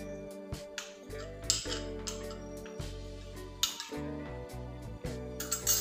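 A custard powder and water mixture is stirred in a pan, with a spoon clinking and scraping against the metal in an irregular rhythm of close, bright taps.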